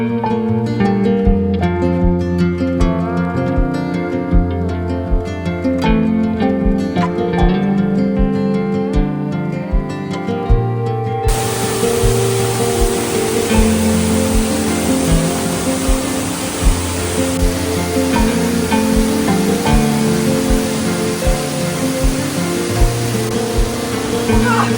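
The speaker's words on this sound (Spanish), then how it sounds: "Y nos vamos despidiendo de esta bella cascada de la Reina." Cascada de la Reina waterfall in Mindo roars as a loud, steady broadband rush, preceded by background music that gives way midway to the constant pour of falling water.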